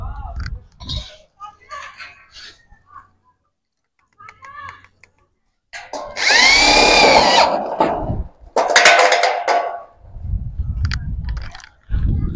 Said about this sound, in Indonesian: Kemudian dibor. Ya, yang tengah dibor juga